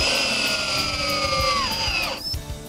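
A power drill on its ratchet setting drives screws into a metal pedestal, a loud, steady whine that holds close up, then drops in pitch and cuts off near the end, with no talking.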